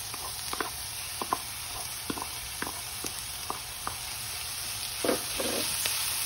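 Onions going back into a pan with browned, caramelized vegetables for ratatouille, giving a low, steady sizzle broken by scattered clicks and taps of stirring, close and without talk.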